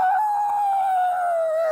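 A human voice imitates an elephant with a sustained, wavering trumpet-like howl held steadily for under two seconds, loud and alone without other talk.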